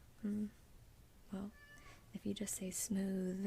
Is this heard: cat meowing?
yes